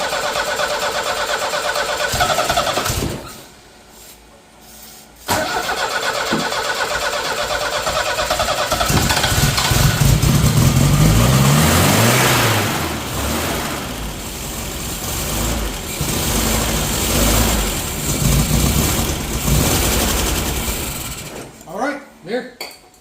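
A project car's engine cranks, stops, then cranks again, catches and runs loud and close, revving unevenly up and down before cutting out near the end. Voices are heard faintly under the noise.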